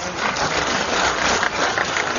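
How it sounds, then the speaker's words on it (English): Dense, steady applause from an audience at an award event, a continuous wash of many hands clapping at even loudness throughout without voices. "let's give a big round of applause"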